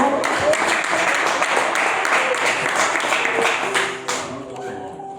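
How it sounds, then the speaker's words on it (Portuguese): A church congregation clapping during an evening deliverance service: a busy wash of hand claps mixed with taps and a voice or music beneath, fairly loud throughout, with a sharper shift near the end. "Você pode dar uma salva de palmas para o Senhor?"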